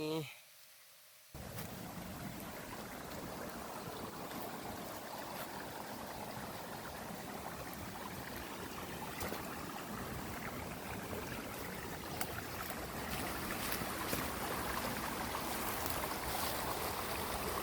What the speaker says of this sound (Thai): เฮาก็มีน้ำตก